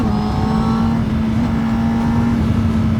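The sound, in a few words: Honda CBR 1000 motorcycle riding on race circuit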